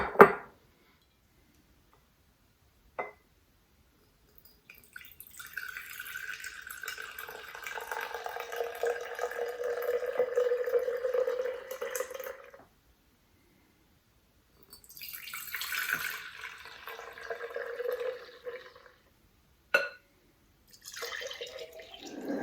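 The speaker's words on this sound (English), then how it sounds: "I'm getting ready to pour this into my mason jars." Liquid poured into mason jars in a kitchen, two long, trickling pours separated by quiet gaps, with a few short clinks of glass in between, close and moderately loud.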